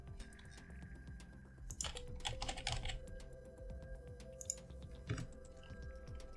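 A computer keyboard typed on steadily, with rapid soft key clicks and occasional louder strokes, faint and close over a low background hum, no talking.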